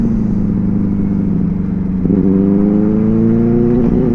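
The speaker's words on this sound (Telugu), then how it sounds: "బెనెలీ సౌండ్ అసలు క్రేజీ బ్రో" A Benelli 600i motorcycle with an Ixill exhaust roars steadily on a night ride, its deep bass-heavy drone rising into a louder rev about halfway through and holding close and loud.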